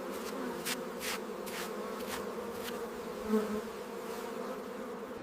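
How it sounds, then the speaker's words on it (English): Honey bees buzz at the hive while honeycomb frames are harvested, a steady, fairly soft droning hum that holds throughout with no voices. "Bees are carefully removed without harming them."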